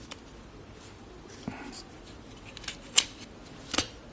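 Grafting pliers pressing into and cutting a branch, a quiet scene with a few small sharp clicks and snips near the end, close and fairly soft.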